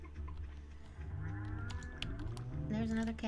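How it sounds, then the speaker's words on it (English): A cow in Stardew Valley lets out a drawn-out, low moo, with a few light game clicks around it. "There's another cow and another cow."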